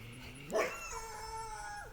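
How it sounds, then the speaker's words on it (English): A dog by a landscaped lakeside gives a single short bark or yelp, fairly distant, set against faint steady background tones with no talking. "And there's some dogs."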